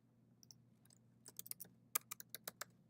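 Quiet keyboard typing: a scatter of sharp key clicks that speeds into a quick burst of keystrokes, with no talking.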